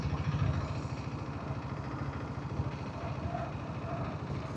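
A diesel Royal Enfield Bullet motorcycle rides downhill at moderate speed on a hill road, its engine thumping in a steady, close, chugging rhythm with wind noise over it.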